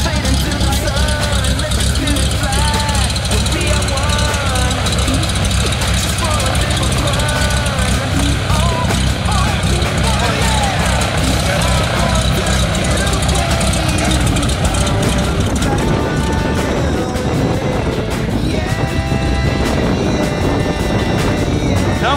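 An aircraft engine drones steadily and loudly throughout, a constant broadband roar as jumpers board a plane for a tandem skydive, with people talking over the noise.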